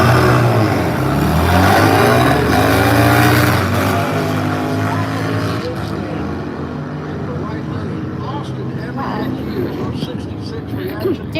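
A sportsman drag racing motorcycle launches hard at a drag strip, its engine roaring loud and rising in pitch before fading off into the distance, with crowd noise and an announcer's voice over it.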